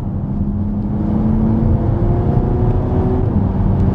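An Infiniti QX30 engine pulls steadily after a paddle downshift from fifth to fourth, a loud, even drone with rising tonal whine heard from inside the cabin, no voices.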